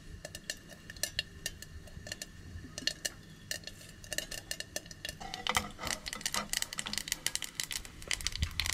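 Hot oil splutters and pops in a pan during tempering for a Goan raw mango sweet pickle, sharp irregular crackles that grow denser and louder toward the end, close and without talk.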